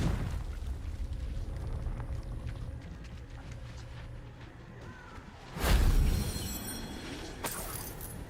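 A Confringo blasting spell going off in a Harry Potter video game, a sudden loud burst with a deep rumbling whoosh rising out of a busy background of game ambience.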